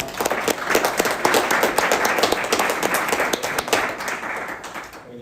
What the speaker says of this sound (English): if we can give a round of applause to Barry